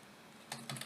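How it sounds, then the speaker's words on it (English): A few quick keystrokes on a computer keyboard enter a command in a Linux terminal running the i3 window manager: two or three soft, close clicks at the end of a brief, quiet pause. "you can type in exit"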